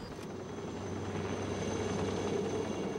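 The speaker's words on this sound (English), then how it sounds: "Doug was taken by Life Flight to the trauma unit of the University of California Davis Medical Center" A Life Flight medical helicopter carrying an injured man to a trauma center makes a steady, droning rotor and engine roar. It holds constant and grows slightly louder over the few seconds, with no voices.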